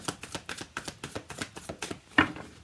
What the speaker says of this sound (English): I'm shuffling right here in front of you